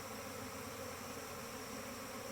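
A large swarm of honeybees buzzing in a dense, continuous drone, steady and fairly close throughout.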